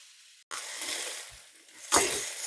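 Minced meat browns in a pan with a steady, soft sizzle, then a sharper burst of frying and scraping near the end as it is stirred, fairly close and without talk.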